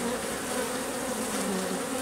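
Honey bees buzz steadily on a hive frame heavy with honey, a dense, continuous hum close by and at even loudness throughout, with no voices over it.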